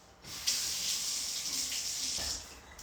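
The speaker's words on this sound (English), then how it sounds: "take it over to the sink and rinse it out" Water runs steadily from a kitchen sink tap as a container used for fermenting spring vegetables is rinsed out, a close, continuous hiss lasting a few seconds with a slight splashy change near the end.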